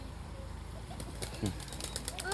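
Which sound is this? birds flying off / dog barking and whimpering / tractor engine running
birds flying off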